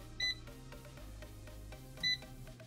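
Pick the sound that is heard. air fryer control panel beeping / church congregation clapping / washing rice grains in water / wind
air fryer control panel beeping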